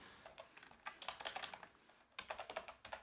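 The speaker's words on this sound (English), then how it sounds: "just go ahead and just type this in" Fingers type rapidly on a computer keyboard, a quick, soft stream of key clicks with a brief pause midway, close and quiet with no one speaking.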